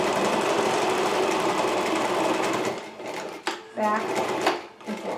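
A sewing machine stitches a seam on mask fabric, back and forth, with a continuous fast mechanical whir that breaks into shorter stop-and-start bursts near the end, close and loud.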